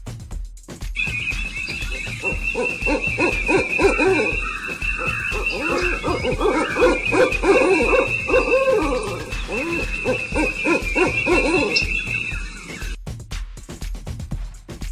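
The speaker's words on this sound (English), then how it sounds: "Great Gray Owl is the world's largest species of owl by length." Great gray owl hooting, a repeated series of calls running steadily for about twelve seconds over a busy, layered background, fairly close and loud, then cutting off.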